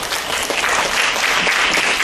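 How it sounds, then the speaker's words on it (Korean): An audience at a 2020 Jogye Order Buddhist education conference applauds Professor Kim Gwang-yong. The clapping is loud, full and continuous, holding steady for two seconds with no voices over it. "김광용 교수님께 다시 한번 큰 박수 부탁드립니다"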